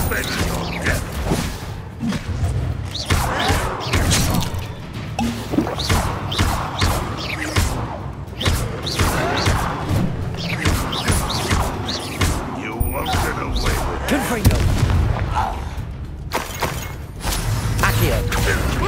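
A Confringo blasting spell in Hogwarts Legacy sets off a chaotic burst of crashes, thumps and creaking mechanical debris that rumbles on loudly and densely throughout, with a voice speaking over the noisy combat.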